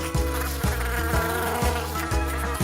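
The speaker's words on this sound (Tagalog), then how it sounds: "Mga langaw ang lumilipad sa buong sala." Flies buzz around a living room in a continuous, loud, droning hum that pulses at regular intervals over a steady background, with no voices.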